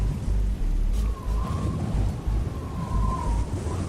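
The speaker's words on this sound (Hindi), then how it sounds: "खोपड़ी राक्षस अपनी शक्तियों से एक तेज आंधी का झोंका ले आता है" A strong storm wind roars steadily as a sound effect, a loud, close, continuous rushing gust with a low rumble and faint whistling tones drifting through it.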